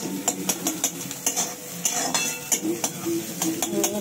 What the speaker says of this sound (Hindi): मिलाएंगे अच्छे से फ्राई कर देंगे।